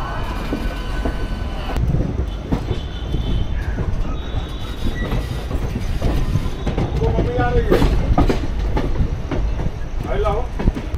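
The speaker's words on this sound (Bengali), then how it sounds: "আর ওপাশ থেকে কিন্তু সাউথ ইস্টার্ন রেলওয়ের একটা লোকাল ট্রেন ঢুকছে, আর আমরা এখান থেকে বেরিয়ে যাচ্ছি আমাদের গন্তব্যে।" 13019 Bagh Express pulling out of Howrah while a South Eastern Railway local train comes in, a continuous heavy rumble with wheel clatter and squealing flange screeches rising and falling, close and loud.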